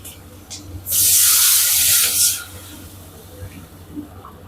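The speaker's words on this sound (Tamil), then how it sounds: "இப்போ வந்து தண்ணி அளந்து ஊற்றிக்கலாம் ஒன்றுக்கு மூணுங்கிற ரேஷியோவில் நான் ஊற்றுறேன்" Measured water is poured into a hot cooking pan while making rava pongal, a loud sizzling hiss that lasts about a second and a half before fading back to a quiet kitchen hum.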